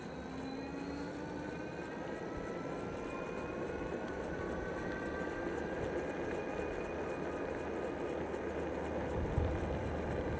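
A Blix Sol X e-bike motor runs at full throttle in Eco mode, a thin whine climbing steadily in pitch over continuous rumble of road and wind.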